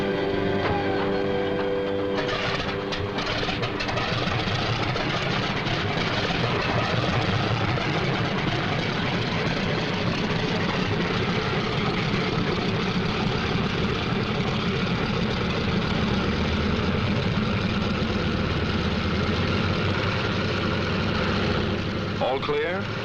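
Several WWII fighter planes idle on the ground before takeoff, a steady, dense piston-engine drone that runs loud and continuous throughout with a broad low rumble.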